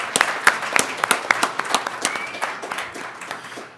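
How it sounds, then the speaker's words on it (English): A small conference audience claps for a few seconds, the scattered applause steady at first and then thinning out. "give a big round of applause"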